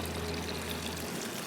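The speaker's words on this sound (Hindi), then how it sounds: "जो है वो मैं पानी ऐड करूँगी" Water is poured into a dipping sauce for vegetable tempura. It makes a faint, steady pouring hiss that stops just before the end, with no talk.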